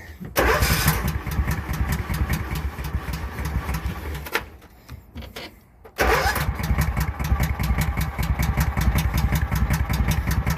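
A choked motorcycle engine with a new carburetor cranks, drops away, then fires and runs with a loud, steady clattering idle, close by.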